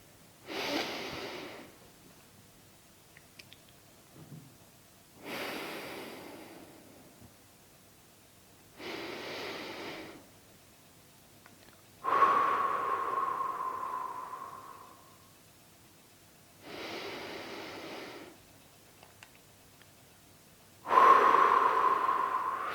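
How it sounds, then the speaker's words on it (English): Slow, deep breaths during a guided relaxation practice, six long inhales and exhales spaced evenly a few seconds apart, close and fairly soft with quiet pauses between. "Take 3 deep breaths."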